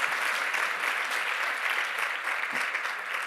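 Steady, dense applause from a large audience at an early literacy coaching institute runs at an even loudness for about three seconds, with no voices over it.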